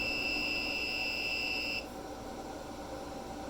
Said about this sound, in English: started getting some kind of an alarm.